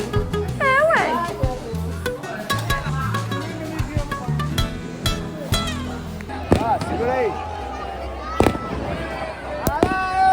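New Year's fireworks over a beach in Brazil pop and crackle in rapid irregular bursts, some bangs sharp and near, with a busy crowd murmuring and people talking throughout.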